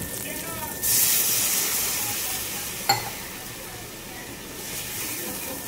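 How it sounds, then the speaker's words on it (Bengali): Water hits hot oil-fried spice paste in a pan for Bengali fish curry, bursting into a loud hiss of sizzle and steam that slowly fades, with one sharp clink partway through. "মশলাটা কষা হয়ে যাচ্ছে, মশলাটা ভালো করে কষানো হয়ে গেছে, তেল ছেড়ে গিয়েছে। এবার আমি জল ঢেলে দেবো।"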